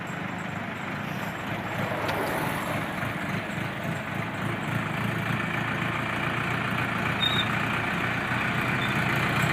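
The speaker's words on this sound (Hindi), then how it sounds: "ये देखिए ट्रैक्टर आ रहा है।" Decorated tractor driving along a village road past sugarcane fields, its engine a steady rumbling drone throughout at moderate distance, with no talk.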